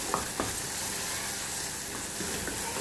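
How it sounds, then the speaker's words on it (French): Lardons (bacon pieces) frying in a pan: a close, steady sizzle with a couple of brief stirring taps near the start. No voices. "Là, je fais revenir les lardons."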